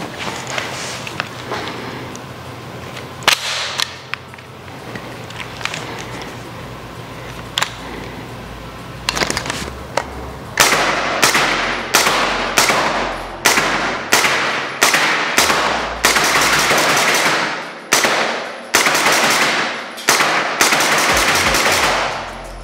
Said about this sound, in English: shooting this SP5 suppressed is a dream